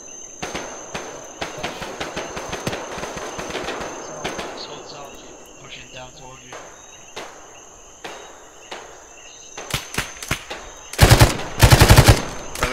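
Rapid bursts of machine gun fire crackle in Arma 3 combat, rattling volleys repeating over a steady insect-like chirping ambience, with louder close bursts toward the end.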